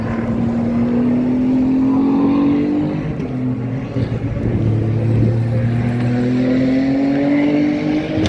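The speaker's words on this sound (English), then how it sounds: "MotoGP cars. That's what we were hearing." MotoGP racing motorbikes at Silverstone drone steadily at full throttle, a continuous high engine whine rising and falling in pitch as bikes pass at middle distance, with no talking.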